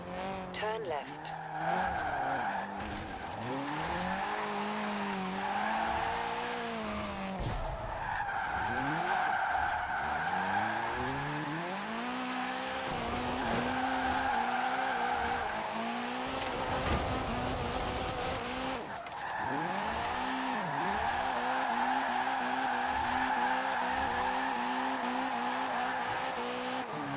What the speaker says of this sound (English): You can drift in a lower spec car if you change the compound of your tyres.